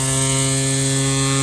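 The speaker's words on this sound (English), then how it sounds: "press this and it will start the trimmer" Ryobi string trimmer motor running at close range, a loud, steady electric whine with a strong constant hum throughout.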